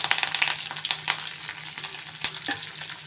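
Urad dal, cumin, green and dry chilies and curry leaves sizzle steadily in hot oil for a carrot, cabbage, coconut and green pea curry, with crackling pops and faint stirring scrapes close by, no talking.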